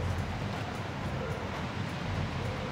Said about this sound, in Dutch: ik heb een waterval voor de deur